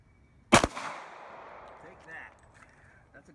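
A single loud, sharp Glock 22 pistol shot fired during ballistics testing, cracking out close by and trailing off in a long reverberant decay, with faint voices in the background.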